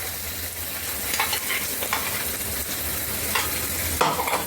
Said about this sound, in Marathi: हे वाटण परतून घ्यायचं चांगलं